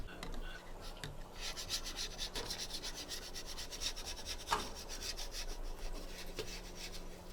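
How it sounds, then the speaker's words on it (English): A scraper rubbing algae off the glass of an aquarium tank, a steady rasping scrape that repeats in quick strokes, close and fairly quiet, with no voices. "Let's go ahead and get the algae scraped"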